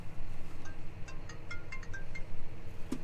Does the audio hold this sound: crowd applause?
no